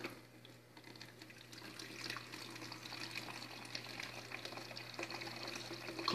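Water runs steadily from a hot tank tap into a jug during cleaning, a soft continuous pouring rush over a low electrical hum, fairly quiet and without talk.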